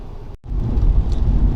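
An older BMW E87 116i hatchback drives at night, with steady engine and road rumble heard close from inside the cabin, broken by a very brief dropout near the start.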